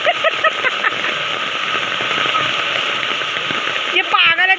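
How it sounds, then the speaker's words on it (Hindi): Heavy rain pours steadily in the mountains, a dense, loud hiss of drops on surfaces filling the whole clip, with a brief higher vocal or animal sound near the end. "गंगा और कार्तिकी दोस्तों ये, और इतनी तेज़ बारिश में भी बाहर है"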